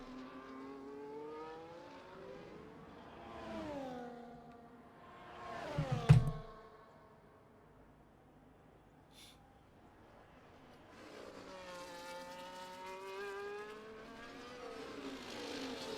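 F1 race cars in a video game at Bahrain, including a Haas and a Mercedes, whine past with rising and falling engine notes, one loud close pass with a sharp burst midway, then a cluster of revving engines returns.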